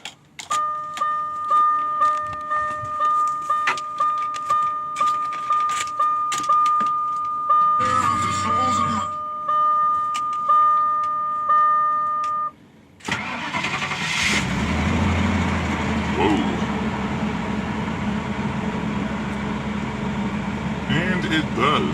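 An old car on a back lot is started with its key: a run of repeated starter cranks with a steady electronic chime, then the engine catches and settles into a close, continuous running rumble.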